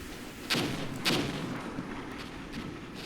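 Artillery fire in the war strategy game Armored Brigade: two heavy booms about half a second apart, followed by fainter distant rumbles and cracks over a low background din.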